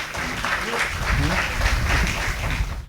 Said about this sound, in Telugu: మనం ఫాదర్ గారికి చప్పట్లు కొట్టి